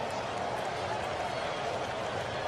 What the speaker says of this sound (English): Sarah's going to bring that crowd noise down